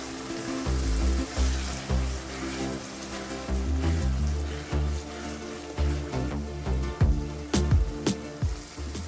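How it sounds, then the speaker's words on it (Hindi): Matar paneer gravy bubbling and sizzling in a pan while a spoon stirs it, with loud rhythmic clanks and scrapes over a steady fry hiss, close up and without talk. "थोड़ा सा चलाएं और पकने दें।"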